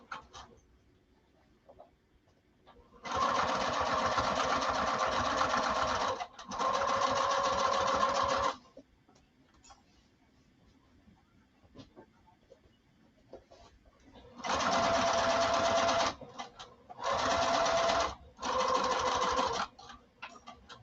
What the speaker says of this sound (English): And then I'll just trim up the foam and we'll sew it together.